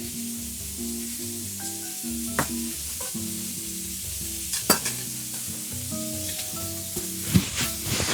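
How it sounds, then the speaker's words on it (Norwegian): Slices of bread for a chicken and bacon club sandwich fry in a pan two at a time, giving a steady sizzling hiss with a few sharp pops, under sustained background music and with no talking. "Og så steker jeg bare, eller rister jeg bare det brødet to etter to."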